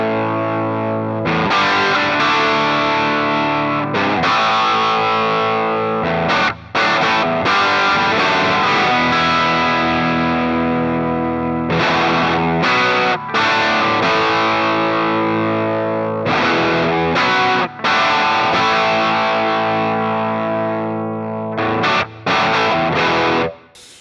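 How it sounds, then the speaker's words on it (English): Electric guitar played through a NUX MG-300 modeler on a Plexi amp preset, a 1957 Custom reissue with original pickups, giving loud, driven chords that ring out and are briefly cut between phrases. "here's the PLEXI tone based on my 71"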